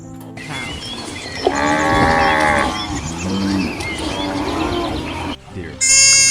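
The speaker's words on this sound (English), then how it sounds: "Cow." A cow gives one long, loud, close moo that swells and wavers for several seconds before cutting off, followed by a brief bird-like chirp.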